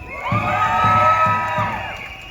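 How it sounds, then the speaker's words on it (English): A crowd at a street rally keeps up loud cheering and whoops, with a steady low rhythmic thumping pulsing beneath the voices about twice a second. "And feel free to give yourselves a round of applause for being out here today."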